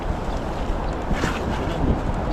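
Steady wind buffeting the microphone, a dull rumbling roar with no other clear sounds.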